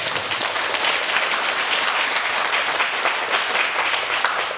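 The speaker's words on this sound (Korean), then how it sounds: "좋은 질문 해주는데 큰 박수 부탁드립니다." Big round of applause from an audience at a Sunday lecture, loud, dense and continuous clapping filling the space without a break.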